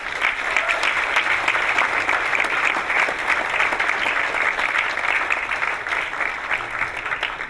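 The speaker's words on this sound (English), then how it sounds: "So please give them one more round of applause." Sustained audience applause at a demo day presentation, a dense steady wash of many hands clapping at even loudness from start to finish with no talking over it.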